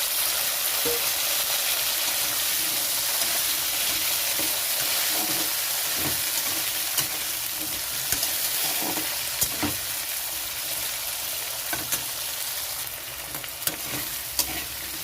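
Potato pieces frying alongside prawns and whole spices in a pan, a dense steady sizzle with intermittent spatula scrapes and taps, near and uninterrupted by voices.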